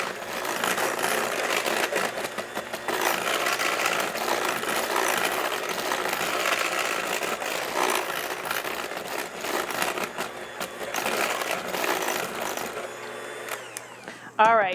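An electric mixer beats chocolate chip cookie dough after vanilla is added, a loud, steady whirring drone that runs almost the whole time before cutting off near the end.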